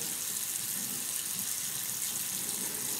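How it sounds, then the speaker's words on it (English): Tap water runs steadily into a bathroom sink while someone wets their face, a continuous close hiss with no pauses. "I'm gonna wet my face"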